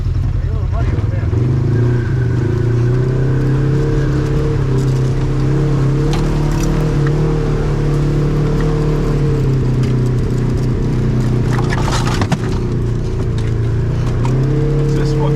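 A snowmobile engine drones steadily and loudly on a night trail ride, holding a rough, constant revving tone for about fifteen seconds with small dips and surges, captured up close from the rider's position.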